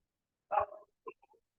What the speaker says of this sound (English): Yes, some dog is also barking outside,